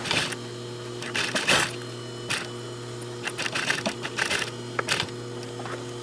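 A sewing machine stitching a zipper fly on jeans, running in short, rapid bursts with pauses between them over a steady low motor hum, close and fairly quiet, with no talking.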